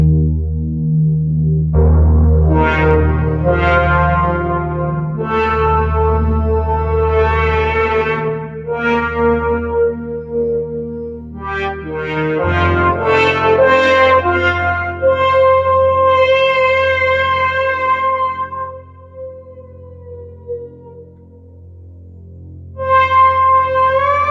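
Slow synthesizer chords and a deep bass line ring out with long, washy reverb tails, sustained and spacious with no voices.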